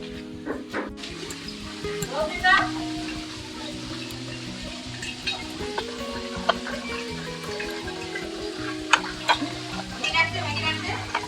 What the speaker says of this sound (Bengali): আমি রান্না বসিয়ে দিয়েছি, ঘরোয়া রান্না